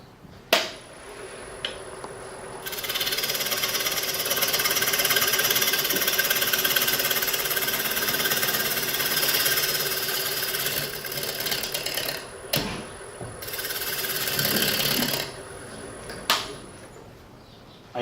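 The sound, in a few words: scraping high spots off a square bowl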